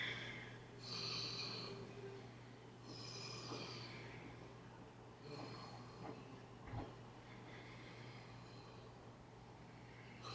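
Slow, deep breaths during a yoga class, long airy inhales and exhales repeating in a steady rhythm over a faint constant hum, fairly close and soft.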